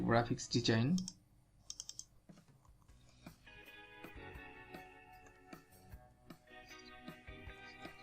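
Keys tapped on a computer keyboard while entering heading text in Canva, a run of light, irregular clicks following a brief burst of speech, fairly close and quiet.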